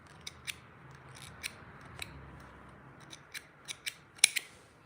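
Scissors snip off excess thread or fabric near a Singer Heavy Duty 4423 sewing machine, a series of close, sharp cuts spaced irregularly, a few in quicker succession near the end, with no talking.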